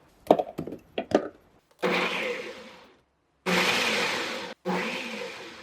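A food processor chopping garlic whirs in three loud bursts after a few short clattering knocks, each pulse a steady grinding buzz with brief pauses between.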